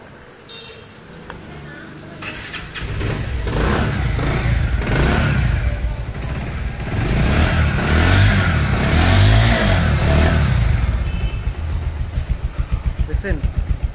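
A Bajaj Pulsar single-disc ABS motorcycle, nearly new, starts and revs up close, engine rising and swelling in repeated throttle blips before settling, with a voice talking faintly underneath.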